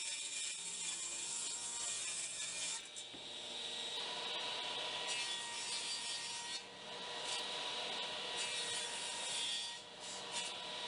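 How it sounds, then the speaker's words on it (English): A table saw rips wooden rails to width, a sustained loud whine and rasp of the blade through wood running nearly continuously, with a few brief dips where the cut eases. "I got my measurements and went to the table saw."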